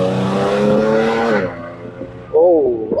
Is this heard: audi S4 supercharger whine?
yes